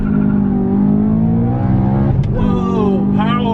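A supercharged BMW E92 M3 accelerates hard, its engine note rising steadily in pitch before a brief shift and a renewed climb. A voice exclaims over the engine.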